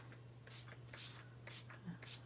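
Shimmer spray mists onto a craft card in short, soft bursts, four quiet hissing puffs close by over a low steady hum.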